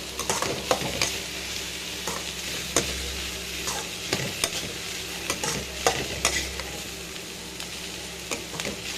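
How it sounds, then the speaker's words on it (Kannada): Bitter gourd being stir-fried without water in a pan, repeated spoon scrapes and taps over a constant close sizzle, steady and moderately loud with no one speaking. "ಈಗ ಫ್ರೈ ಮಾಡ್ತಾ ಇರಬೇಕು"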